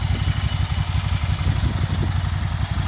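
A 2012 Can-Am Spyder RTS E5 three-wheel motorcycle idles close by, a loud, steady low rumble with rapid rhythmic pulsing and slight clatter, no talk.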